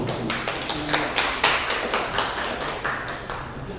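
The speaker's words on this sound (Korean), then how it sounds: "큰 박수 부탁드리겠습니다." Audience applause at a Korean sports academic conference, a crowd clapping in a steady patter of overlapping claps for a few seconds, moderately loud and fairly close.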